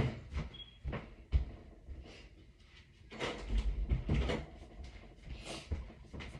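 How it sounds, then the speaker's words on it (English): A room door swings shut indoors with a few short knocks and thuds, fairly close, amid faint shuffling and handling noise. "Oh, I gotta close my door real quick."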